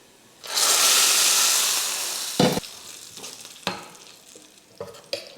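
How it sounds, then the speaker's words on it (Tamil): Hot oil tempering of mustard seeds and curry leaves is poured into coconut chutney for idli, giving a loud, sudden sizzling hiss that fades, followed by a few sharp clinks and taps of the pan and spoon. "ஆஃப் பண்ணிவிட்டு சட்னியில் ஊற்றிடலாம்."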